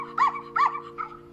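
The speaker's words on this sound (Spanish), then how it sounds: "El perro." A dog gives three quick barks, the last softer than the first two, close and clear over a faint steady hum.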